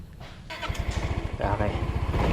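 A scooter engine is kickstarted outdoors on a Philippine island road, catching after a few kicks and settling into a steady, close, pulsing idle with a voice talking over it.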